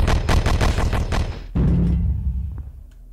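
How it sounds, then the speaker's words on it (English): Plasma gun fire in the Horus Heresy: Betrayal at Calth video game: a fast volley of loud, closely spaced shots, then one heavier booming blast that fades into a low rumble. "Alright, so we're gonna go with a plasma gun."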